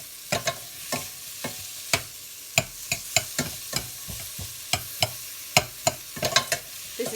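Garlic and onions frying in a pan, a light sizzle beneath repeated sharp taps and scrapes of a utensil stirring against the pan, close and fairly loud with an irregular rhythm.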